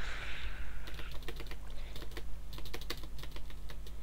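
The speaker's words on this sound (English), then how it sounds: "Hit the keyboard!" Computer keyboard keys are struck rapidly in dense, uneven clatters of sharp clicks, close and fairly loud, starting after a brief soft hiss and continuing with short gaps.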